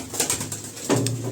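Pigeons coo from a loft of birds bred and prepared for the season, with two or three soft, rolling coos close by and no one talking.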